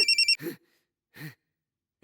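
A phone ringtone plays a short burst of rapid repeating beeps, then stops, followed by two soft breathy sighs in a quiet room.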